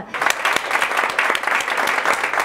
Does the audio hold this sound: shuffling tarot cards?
no